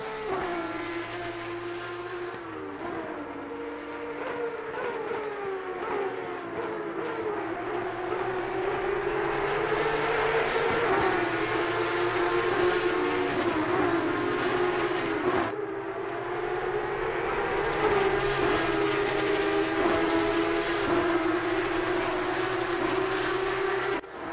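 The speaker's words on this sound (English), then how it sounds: "these Porsche Cup cars are still the best sounding cars in ACC" Porsche Cup race car engines in Assetto Corsa Competizione at Donington, a sustained loud engine drone with shifting revs and overlapping cars, heard alone without talk.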